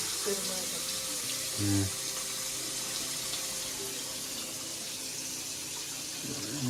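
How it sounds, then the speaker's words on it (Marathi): Tap water running steadily into a sink while a plate is washed, a continuous close wash of water with a brief louder splash near the start and faint clinks. "आता मस्त एक प्लेट धुवून घेणार"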